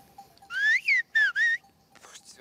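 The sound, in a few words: person whistling the word "français" in whistled language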